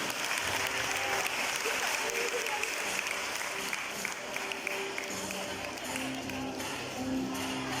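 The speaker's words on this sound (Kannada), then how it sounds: "ಚಪ್ಪಾಳೆ ಬರಲಿ" An audience at a polytechnic college annual day function applauds a prize winner, giving a steady, dense wash of clapping from many hands that carries on evenly throughout.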